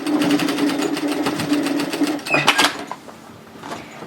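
A sewing machine stitches a skirt's cargo pocket flap in a steady, close mechanical whir that runs continuously, then breaks off into a few brief clicks and handling sounds as the fabric is lifted and pivoted.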